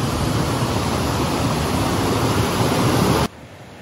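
A forest waterfall pours with a dense, steady broadband rush that stays constant and loud, then drops abruptly to a quieter hiss near the end.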